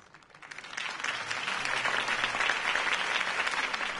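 Steady applause from a large crowd in a cartoon swells in after a quiet start and holds loud and dense throughout, a continuous wash of clapping.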